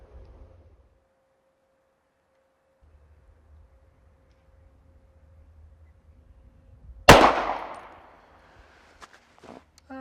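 A single sharp, loud gunshot cracks out of near-silence during a test of an MMC rear sight, followed by a decaying echo and a few faint clicks and handling noises.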